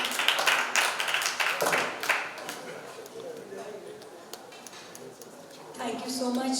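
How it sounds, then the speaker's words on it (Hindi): An audience at an Indian health camp event claps in a burst of applause lasting about two seconds, then the clapping fades as a speaker's voice continues over the room. "तालियां बजनी चाहिए"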